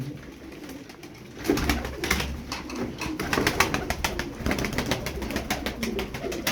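Pigeons in a loft flutter and coo close by, with a busy, continuous patter of wingbeats and movement that swells after the first second and stays dense.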